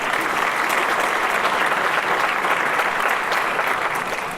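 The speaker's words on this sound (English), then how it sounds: "I think that deserves a round of applause for that" Sustained audience applause fills a university alumni award ceremony honoring a longtime donor, a dense, steady clapping throughout with no voices over it.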